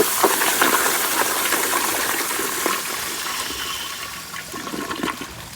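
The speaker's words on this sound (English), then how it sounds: "Here's a flush." A 1992 Kohler Kingston toilet fitted with a Sloan Regal flushometer flushes at about 60 psi, a loud close rushing gush that fades slowly into refilling water.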